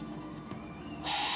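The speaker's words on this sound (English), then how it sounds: "Big ass owl." Large owl calling in a television drama scene set at a wall, a brief bird cry ending in a harsher burst, heard alone against a background hum.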